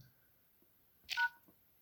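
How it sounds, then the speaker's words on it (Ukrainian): Short burst of touch-tone keypad beeps while a service code of star, hash, zero, star, hash is dialed on a Samsung phone, heard alone in a quiet room with faint taps before and after. "Набираємо на клавіатурі зірочка, решітка 0 зірочка, решітка."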